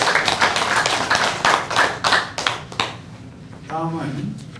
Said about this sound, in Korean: 다시 한번 박수 부탁드립니다.